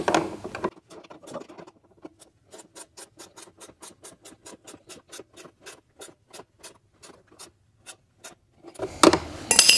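A wrench turns a replacement hose fitting on a Betco Fiber Pro 8 vacuum hose in a quick run of evenly spaced ratcheting clicks, close and clear, with louder handling noise before and after; no talking.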